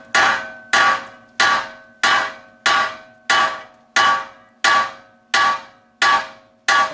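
A hammer strikes the end of a tie rod on a 1998-2002 Honda Accord during a front ball joint job, about ten loud, evenly spaced metallic taps that ring briefly after each blow, with no voices.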